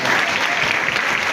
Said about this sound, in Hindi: तो मैम के बोलने के बाद तालियां बजनी चाहिए ना